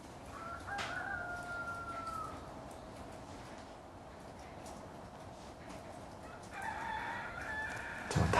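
A rooster crows in the distance, with a drawn-out call near the start and another rising crow toward the end over steady low outdoor background noise.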